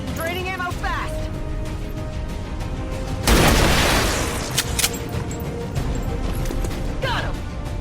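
Bursts of video game gunfire with booming impacts crash loudly over a steady background din, while voices talk and game announcements play throughout.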